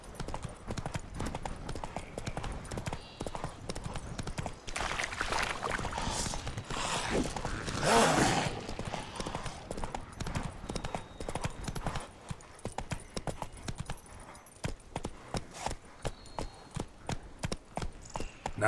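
Steady hoofbeats of the horse galloping in The Witcher 3, a rapid, even clip-clop running throughout at close range, with a brief louder swell midway and no talk over it.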